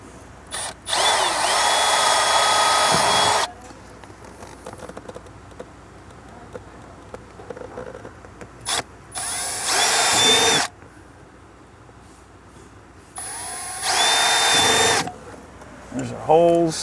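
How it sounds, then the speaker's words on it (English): A power drill with an 1/8 inch bit bores small holes for Dinan pedal covers in an E92 BMW M3, three loud whining bursts of a few seconds each, separated by quieter stretches with a little talk. "they're gonna drill little 1/8" holes"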